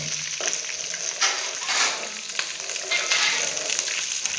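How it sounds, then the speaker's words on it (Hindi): Garlic, ginger and green chili paste frying in oil makes a close, steady sizzling hiss that swells in short surges as it is stirred, with no voices, while taro curry is being cooked. "लहसुन, अदरक और सब्ज़ मिर्च का जो भी पेस्ट डालेंगे उसको फ्राई कर लें।"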